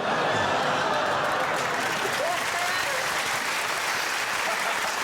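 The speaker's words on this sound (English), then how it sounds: "That's a classic mixture of groan and applause." Studio audience on a British comedy panel show breaking into steady, sustained applause mixed with groans and scattered chuckles, filling the room evenly throughout with no single voice standing out.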